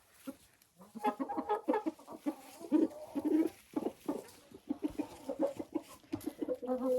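Hens in a coop cluck busily around a rooster, making a lively, continuous run of close, uneven clucks and short calls that rise and fall for the whole stretch.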